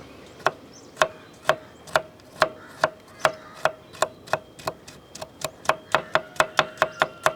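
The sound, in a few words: knife finely chopping coconut pieces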